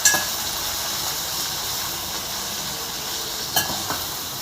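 Tomatoes and curry leaves frying in a pan for kothimeera pachadi, a steady close sizzle and hiss with a couple of faint stirring clinks.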